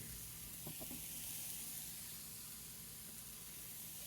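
Steady, faint sizzling hiss of food frying in a pan, continuous throughout with a few soft clinks early on.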